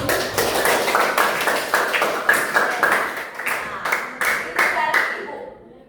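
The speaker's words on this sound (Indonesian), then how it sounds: "Tepuk tangan dulu." Students clapping together in a classroom during a teaching-practice lesson, a steady run of hand claps that lasts several seconds before tapering into quiet at the end.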